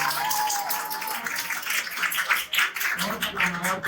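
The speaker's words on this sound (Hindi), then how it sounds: "अपनी तालियों के साथ हमारे सहपाठी का मनोबल बढ़ा रखे" Applause from an audience at a 26 January Republic Day program in Budania, a quick patter of many hands clapping at moderate loudness, with some voices in the room underneath.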